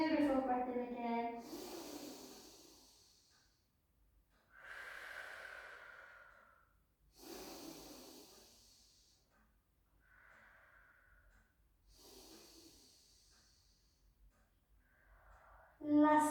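Slow, deep breaths taken during a gentle strength, balance and flexibility exercise, several soft inhales and exhales spaced across the span, close and fairly quiet with faint rustling between them.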